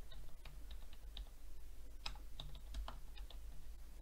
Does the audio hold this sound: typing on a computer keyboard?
yes